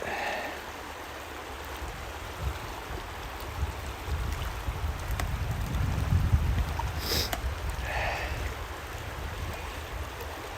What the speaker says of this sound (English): It's not a river, it's a creek.